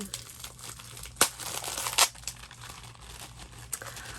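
Plastic packaging from a Halloween craft-store haul crinkles and tears close by, with a few sharp ripping bursts among steady rustling.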